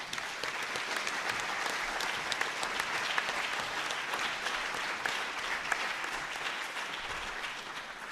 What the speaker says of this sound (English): So let's give a warm round of applause to Christopher Thomas.